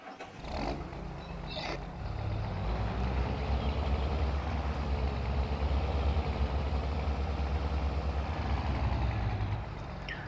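John Deere 6x20 series tractor in Farming Simulator 22 idling, a steady low engine rumble heard from inside the cab, holding even and continuous with a slight rise in level after the first couple of seconds.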